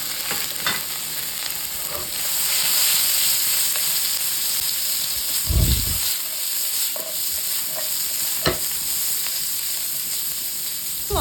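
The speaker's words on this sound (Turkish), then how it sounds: "tavamıza hemen doğradığımız soğanlarımızı alıyoruz" Chopped onions frying in a pan for a vegetable meatball sauté, a steady close sizzle and hiss with occasional clatter of stirring and a brief low thump midway.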